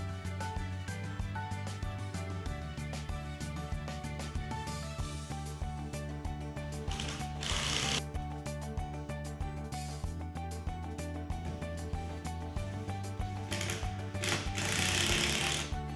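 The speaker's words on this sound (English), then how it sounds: "fasten the floor track through the pre-drilled holes with the provided number 12 by 1¾-inch screws" A power driver runs #12 by 1¾-inch screws through pre-drilled holes into the floor track of a stacking biparting multi-slide door, giving steady, loud whirring and grinding bursts with a few brief pauses.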